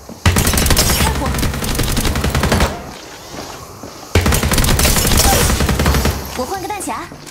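Sustained rapid automatic gunfire in the battle-royale shooter Apex Legends, loud and close, with a brief lull midway before the fire resumes, followed by scattered weapon and ability effects near the end.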